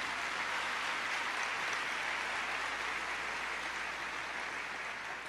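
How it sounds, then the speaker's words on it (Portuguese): A church congregation applauding during a sermon, a steady, sustained roar of many hands clapping at an even level for several seconds. "Aplauda"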